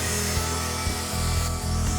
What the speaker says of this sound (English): V-bit chisel on a die grinder.